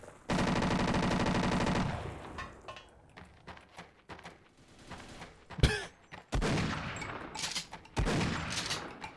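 Video game gunfire in Half-Life: Blue Shift, a long loud burst of rapid automatic fire followed by scattered single shots and impacts, with more short automatic bursts later.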